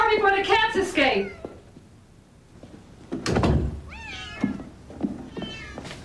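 Cats in a house meow several times, a cluster of wavering cries at the start and more later, mixed with a heavy door thunk and people talking nearby.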